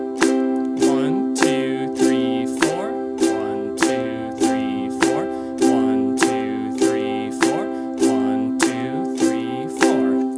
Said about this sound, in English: there are 4 quarter notes or 4 strums per measure